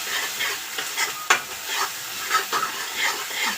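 A crushed onion, garlic and green chili paste fries in hot oil for shepu (dill) bhaji, a steady close sizzle broken by a few scraping stirs.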